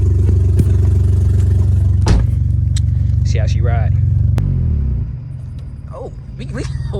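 A BMW E46 car drives along with a loud, steady low engine rumble and road noise, briefly dropping in level before picking up again, with a few voices speaking over it.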